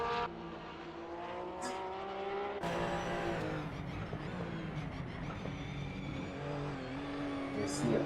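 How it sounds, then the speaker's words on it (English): A Porsche Cup race car at the Red Bull Ring in a sim racing game loses grip and spins out, with engine revs, tire noise and an abrupt shift in sound partway through, under a commentator's voice. "he spun around, he spun his car around"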